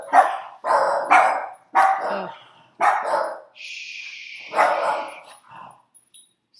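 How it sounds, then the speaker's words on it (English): Several dogs bark in a home during an online math lecture. Five or six loud, close barks come in quick bursts with short pauses between them, followed by a high whine, while a person briefly shushes them. "So sorry about my dogs."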